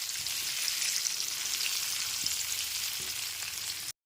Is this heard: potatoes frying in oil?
yes